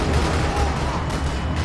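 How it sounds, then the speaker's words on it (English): Dense, continuous gunfire from a shootout in the video game Max Payne 3, set in a parking lot, with steady rattling bursts and booms filling the clip without pause. "Another parking lot rattling with gunfire."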